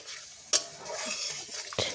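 Spice paste made with yogurt being sautéed in a pan, a soft sizzle under a couple of sharp spoon clinks against the metal, close and fairly quiet.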